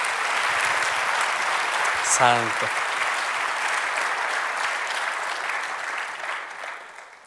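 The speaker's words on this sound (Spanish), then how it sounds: "Den un aplauso al Señor" A church congregation applauds steadily and loudly throughout, a dense wash of clapping with a voice calling out briefly over it before the applause slowly tapers near the end.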